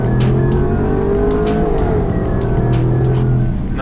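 A powerful 525-horsepower car accelerates hard, its engine roaring close and loud with rising revs and gear changes, no talking.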